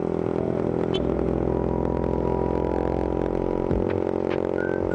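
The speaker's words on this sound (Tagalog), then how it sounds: "maingay na naman ang motor natin" A motorcycle engine drones steadily and noisily throughout while being ridden, with faint clatter and whir over a continuous close rumble.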